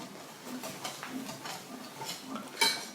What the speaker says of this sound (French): pendant que je remue